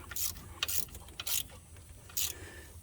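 A hand ratchet tightens a 15 mm bolt on an alternator during a RAM alternator replacement. Several short bursts of clicking come close and fairly quiet, separated by brief pauses.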